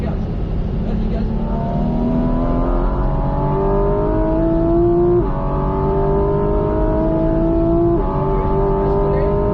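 A Porsche 718 GT4 RS engine accelerating on a race circuit, its loud, steady high-revving note climbing through the gears in repeated rising sweeps, with a voice talking over it.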